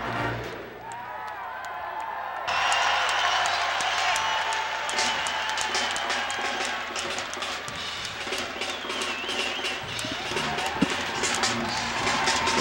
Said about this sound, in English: a sellout crowd inside Assembly Hall